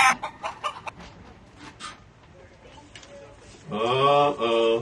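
Some clicks and faint clucking come first, then a loud rooster crow rings out near the end, sharp and close, used as a new-mail notification sound.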